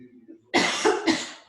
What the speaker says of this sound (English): I'm gonna cough